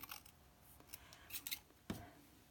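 Scissors snip through fabric in a loose, messy trim, with several quiet, irregular cuts and one sharper close snip, no voices.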